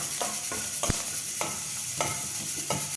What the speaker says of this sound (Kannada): ಇದಕ್ಕೆ ಇವಾಗ ಒಂದು ಈರುಳ್ಳಿ ಕಟ್ ಮಾಡಿ ಇಟ್ಕೊಂಡಿದ್ದನ್ನು ಹಾಕ್ತಾಯಿದ್ದೀನಿ. ಇದನ್ನು ಸ್ವಲ್ಪ ಫ್ರೈ ಮಾಡ್ಕೊಳ್ಳೋಣ.